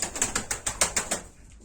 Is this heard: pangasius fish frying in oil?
no